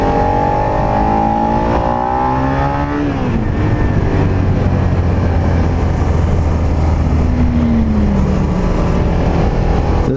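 A 2019 Suzuki SV650X motorcycle engine rolls on the throttle while riding, a loud, steady droning engine note with its pitch dipping and then climbing again, heard close up over wind rush with no talking.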